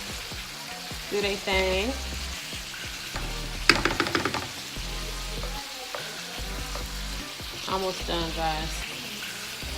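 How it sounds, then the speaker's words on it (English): Shrimp sizzling in a pan for chile-lime shrimp linguine, a steady crackling fry that runs under someone talking and background music, with a sharp clatter partway through. "So I'm trying to put these shrimp here in the middle of the pan so they can cook and turn pink."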